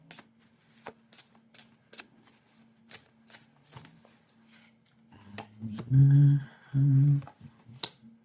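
Tarot cards are riffled and shuffled in a series of quick, crisp snaps, repeating in a loose rhythm, with a brief burst of voice near the end.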